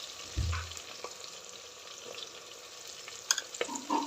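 Ginger and green chillies fry in a pan as a steady, soft sizzle, with a low thump near the start and a few clinks and scrapes toward the end.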